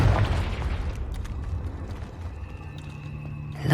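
Confringo blasting curse explodes in a cave in the Hogwarts Legacy video game, a loud deep burst at the start that decays into a long rumbling tail with scattered clicks and debris pops, ending with a sharp hit.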